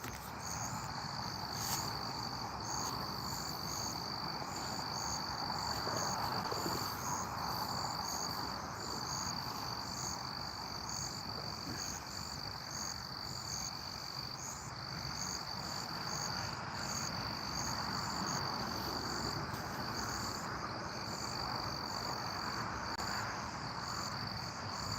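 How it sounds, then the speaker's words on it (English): Crickets chirp steadily outdoors at night in a dense, continuous high trill, with frogs croaking softly beneath across a long, calm stretch without talking. "Even when you hear the crickets, it's like peaceful."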